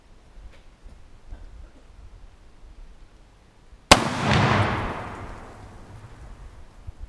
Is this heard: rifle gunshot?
yes